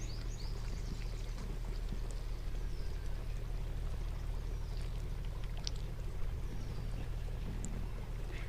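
Spicy rassa curry is poured over misal pav cooked on a wood-fired stove, a steady watery pour beneath constant low rumbling background noise, with no talk.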